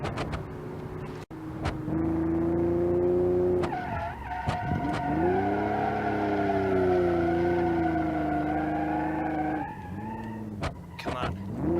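A Barstow project car drifting in the BeamNG.Drive driving game: the engine drones while the tires squeal in long, wavering, sustained screeches. A short break comes near the middle and a final squeal rises at the end. A voice talks over it at times.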